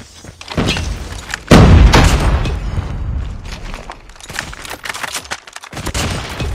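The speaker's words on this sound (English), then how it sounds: "Grenade." A grenade blast goes off amid gunfire in Call of Duty Mobile, a heavy boom landing after a first crack, followed by scattered shots and rattling bursts that continue loud and close until the end.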